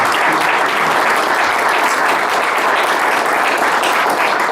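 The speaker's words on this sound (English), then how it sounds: "give him a great round of applause" A roomful of people claps warmly to welcome a speaker, a steady, close, uninterrupted wash of applause from start to finish.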